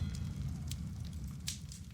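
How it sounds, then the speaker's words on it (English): Faint crackling flames of a fire in a Fate/Stay Night visual novel scene, with sparse sharp pops and snaps over a low, steady rumble of burning. "The crackling of the flames is the only sound present."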